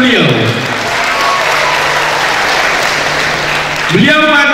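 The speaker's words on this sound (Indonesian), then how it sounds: "Tepuk tangan untuk beliau." Audience at a 2015 public debate of Dumai mayoral candidates claps in a loud, sustained wave of applause, with a voice over a loudspeaker at the start and again as it fades.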